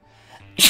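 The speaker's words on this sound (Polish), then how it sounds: "Ale kichnę." A single short, sharp sneeze bursts out at the very end after a near-silent moment with a faint background hum.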